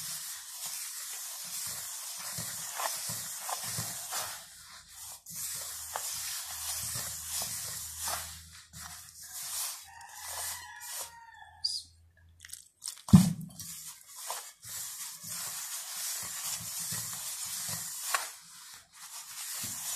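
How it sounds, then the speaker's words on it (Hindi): Stiff flour dough for namak pare kneaded by hand with a little water added at a time, giving soft, close squishing and crunching sounds that repeat irregularly, with a sharper knock partway through. "थोड़ा थोड़ा पानी लगा के गूंदेंगे।"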